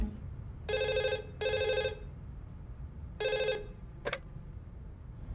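A telephone rings in a room during a Hindi action drama, giving three clear electronic ring bursts followed by a brief click, heard alone over a low background murmur.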